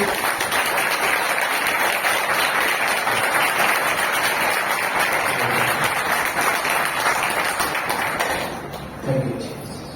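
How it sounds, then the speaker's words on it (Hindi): A church congregation at a gospel mission service bursts into loud, sustained applause for the Lord, dense clapping that holds for several seconds before tapering off near the end. "अब एक जोरदार छोटी सी ताली प्रभु के लिए।"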